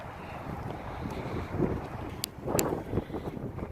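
Wind gusting outdoors on open red-dirt ground in Oklahoma City, rough buffeting rumble across the microphone with louder gusts swelling midway and near the end, plus a few faint high clicks.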